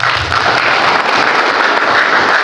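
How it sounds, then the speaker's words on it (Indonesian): Applause from an audience at an Indonesian labour union gathering with health and employment insurance officials, a steady dense clatter of many hands filling the whole moment without speech. "Tepuk tangan untuk kita."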